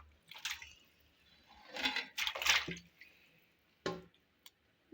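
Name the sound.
washing 2 kg of raw chicken in water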